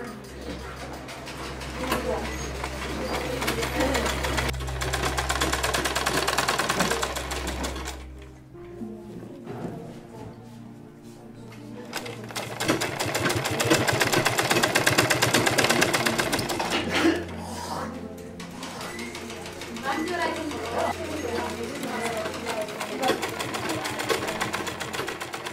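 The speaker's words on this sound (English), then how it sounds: "the district government that donated her a sewing machine" A sewing machine donated by a district government runs with a steady mechanical whir and low hum, pausing briefly midway before resuming, with music and voices mixed in around it.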